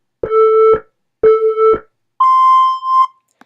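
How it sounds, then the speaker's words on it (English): Three electronic beep tones, loud and clean: two steady lower beeps with sharp edges, then a higher, sustained beep, each separated by brief silence. "So you want to select the beep that you want to have in your voicemail."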